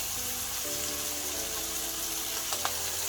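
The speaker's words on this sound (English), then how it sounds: "So in goes the sauce" Sauce hits a hot pan of charcoal seafood noodles, giving a steady, broad sizzle throughout, with a faint low hum and a brief clink near the end; no talking.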